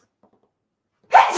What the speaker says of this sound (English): I feel another sneeze coming on.